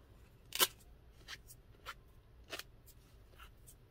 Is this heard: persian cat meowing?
no